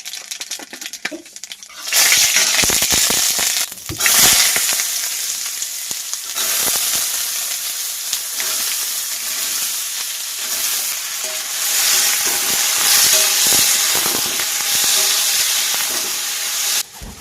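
Potatoes fry with black cumin in hot oil in a wok, giving a steady close-up sizzle with bursts of stirring. It starts after a short quiet moment and carries on without any talk.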